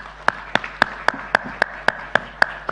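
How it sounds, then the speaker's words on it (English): Panelists at a marketing conclave get a round of hand claps: about ten sharp, evenly spaced claps in a steady rhythm, close and fairly loud, with no talking. "May I have a round of applause for the panelists?"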